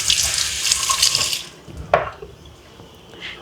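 Water pours briefly from a tap-like stream into chickpea gravy for poori, then stops with a clunk of a vessel and a few faint drips and small kitchen knocks.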